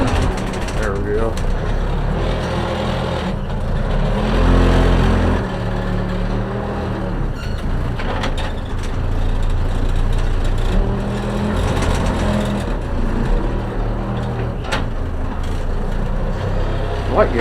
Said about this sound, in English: The problem with this backhoe is it's only 2-wheel drive.